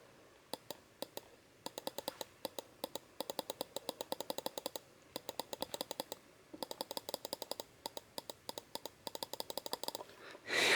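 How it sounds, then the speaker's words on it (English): Vintage Apple Desktop Bus mouse button clicking, sharp crisp clicks repeated in quick irregular runs and pauses, close and quiet against a faint background. "They have a distinct clicking sound."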